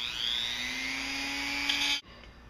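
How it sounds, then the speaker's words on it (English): A rotary sand roller drum grinds in a steady, loud, high whine for about two seconds, then cuts off abruptly into near quiet. "this is a sand roller. Just going to barely hit that."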